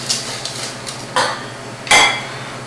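Granulated sugar, 1 1/4 cups, is combined with other ingredients in a bowl for a flourless chocolate cake: a few soft scraping clinks of utensil against bowl, with two louder knocks near the end, close and without voices.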